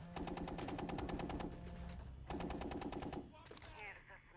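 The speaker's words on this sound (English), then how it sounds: "They're down there shooting through the floor." Rapid machine-gun fire in a multiplayer shooter video game, two loud sustained bursts of evenly spaced shots separated by a short pause, followed by a few scattered single shots.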